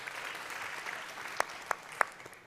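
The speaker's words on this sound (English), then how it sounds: "Let's give him a round of applause for that." A small audience applauds in a conference setting, faint scattered clapping with a few sharper claps standing out near the end.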